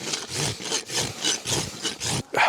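A farrier works a rasp across a horse hoof, putting a bevel on it with steady, close back-and-forth scraping strokes, roughly two per second, with a short break near the end.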